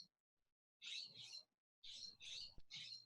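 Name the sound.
birds singing outdoors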